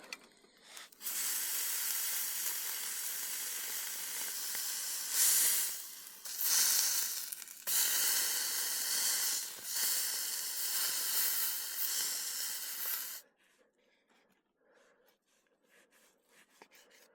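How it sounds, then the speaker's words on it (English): Steak searing in a pan at a desert backcountry camp, a loud, continuous close-up hiss and sizzle with a few surges, cutting off abruptly to near silence near the end. "We'll give our steak a final sear"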